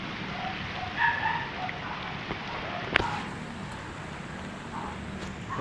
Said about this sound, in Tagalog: Yan, guys, maulan pa rin.